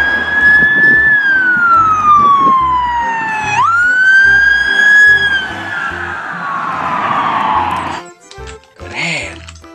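A toy police car's siren wails loud and close, its pitch sweeping down and back up in long cycles, then cuts off near the end, leaving a few clicks and handling noises.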